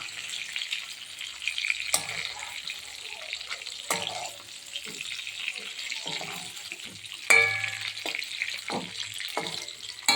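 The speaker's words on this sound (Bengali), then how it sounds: "মাছগুলো ঠিক এই রকমই ভাজবো" Oil sizzles and spits steadily as fish fries, with scraping stirs and occasional clinks of a utensil against the pan close by.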